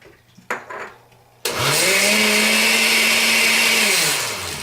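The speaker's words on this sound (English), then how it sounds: "You'll want to do this probably 15 to 20 seconds for the blender." A blender whirs steadily as it purees chili sauce thickened with xanthan gum, starting abruptly after a few faint clatters and running loud and continuous with a slowly shifting motor pitch.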